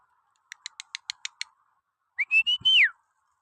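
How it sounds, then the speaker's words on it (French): Someone whistles a rising, sliding call to draw the attention of animals, heard clearly and alone after a quick run of short clicking taps. "Voilà, on siffle, ça lève la tête."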